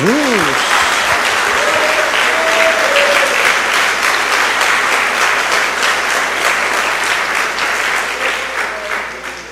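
A church congregation claps loudly and steadily throughout, a dense wash of applause with a few brief voices and a held tone rising over it before the clapping slowly thins toward the end.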